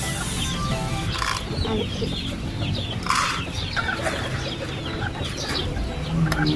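Gamefowl chickens cluck and squawk close by, bursts of excited calls repeating over a busy farmyard background.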